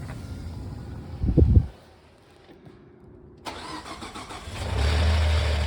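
A car engine cranks and fires up, goes quiet briefly, then settles into a steady idle with a pronounced rattle, recorded close by with no talking.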